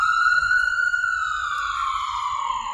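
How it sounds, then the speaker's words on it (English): A police siren wails steadily outdoors, a strong sustained tone with slow pitch sweeps and harmonics, loud and continuous, over low background rumble. "Sorry about the sirens"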